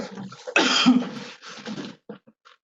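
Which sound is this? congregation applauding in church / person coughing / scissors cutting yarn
person coughing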